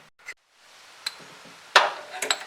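A tight bottom bolt on the water pump of a Pontiac Vibe with a 1ZZ-FE engine is forced loose with a breaker bar and extension. A few sharp metallic clicks lead to one louder crack as it breaks free. Nobody speaks.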